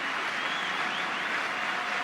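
Rugby crowd at Montpellier during South Africa vs USA, a steady distant wash of cheering and applause from the stands, with no commentary over it.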